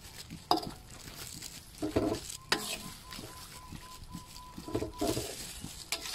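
Grilled pork neck being stirred into curry paste in a pan, a spatula scraping and clinking against the metal in irregular strokes over a soft, steady sizzle.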